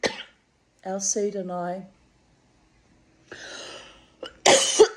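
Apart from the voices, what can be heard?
coughing caused by cigarette smoke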